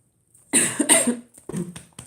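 A person coughs in a short burst of two harsh coughs, then two or three smaller coughs follow, close and fairly loud with quiet between.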